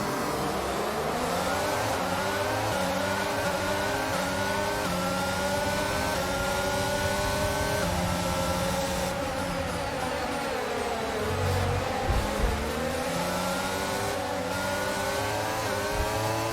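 Formula 1 car engines roar at the race start of the French Grand Prix in the video game F1 22, a loud dense pack of high revving engines climbing through gear shifts and sweeping past.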